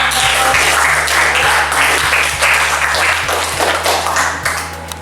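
An audience applauds after a presentation, with dense, steady clapping that fills the room, close and loud, tapering slightly at the end alongside a faint hum.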